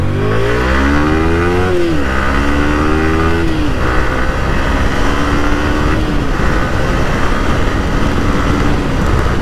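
A motorcycle engine revs hard several times during a slipper clutch demonstration, with loud, close pitch sweeps rising and falling between throttle blips under a constant rough drone.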